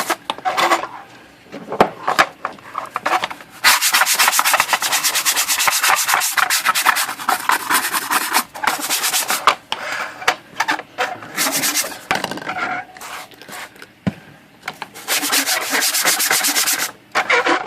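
Repeated rough rubbing and scraping strokes as wrinkle paint is wiped off a Hermes Rocket typewriter, in long bursts separated by short pauses and occasional knocks.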